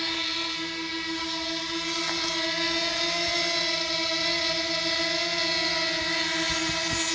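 A DJI Mavic Mini drone hovers low over a mat in wind, its propellers giving a loud, steady, high-pitched whine with stable tonal hum layered on top, continuous and close.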